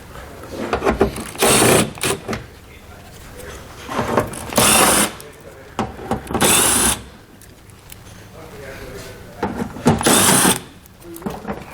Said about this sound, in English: We're going to remove all the bolts that run along the bottom of our bumper fascia.